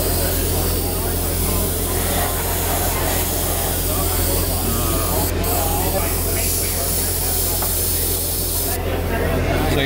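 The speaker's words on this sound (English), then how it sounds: "We want the center of our spray to be right on the edge where it turns silver." A spray gun traces a painted line with a continuous, close, even airy hiss for the full length, while an instructor talks over it at times.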